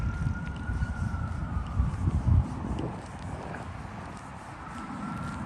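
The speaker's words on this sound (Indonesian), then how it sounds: "Itu baru denger gue suara sirine tuh." A faint siren wails in the distance, its steady tone drifting over loud, rumbling traffic noise along a busy road in Reykjavik, Iceland.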